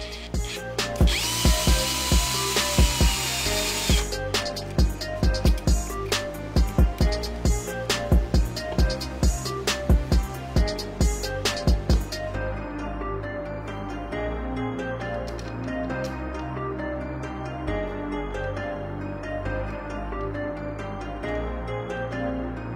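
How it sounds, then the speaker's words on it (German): A power drill bores out a screw hole in a part for a DIY robot arm joint, loud bursts of whirring with sharp repeated bites in the first half, then a steadier, smoother drone continuing alone. "Hier muss ich das Loch wieder etwas aufbohren"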